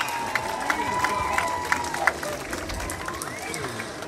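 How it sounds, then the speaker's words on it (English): Crowd at a roller derby bout applauding and cheering for the referees and non-skating officials, a steady wash of clapping and hubbub from a large audience with a few whistles, with an announcer's voice ringing out over it. "a round of applause for our referees and non-skating officials"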